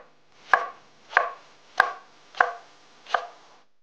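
A knife cuts vegetables into thin strips on a cutting board with five crisp, evenly spaced chops against a quiet background and no speech.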